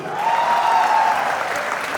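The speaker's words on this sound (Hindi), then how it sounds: "इसी बात पे थोड़ी ताली ठोको" An audience at a college cultural fest breaks into applause, a dense continuous patter of many hands close and loud, with a sustained whistle riding over the first half.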